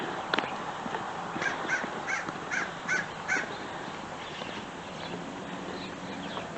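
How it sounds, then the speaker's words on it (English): Crow cawing at a distance, a run of about five evenly spaced harsh caws over faint outdoor background noise, alone without talk. "Is that crow?"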